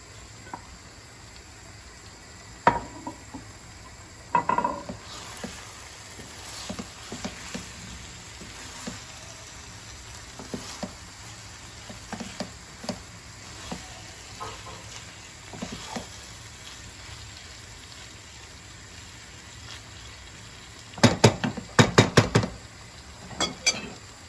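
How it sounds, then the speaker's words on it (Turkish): Eggplant frying in a pan for Turkish meyhane pilaf gives a soft, continuous sizzle and crackle, with scattered pops and a louder burst of spattering near the end, no talk. "patlıcanını kızartın"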